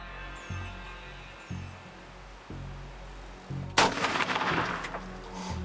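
A single loud, sharp gunshot at a turkey during a hunt cracks out in the open and echoes, preceded by quiet outdoor ambience with a few soft low thumps.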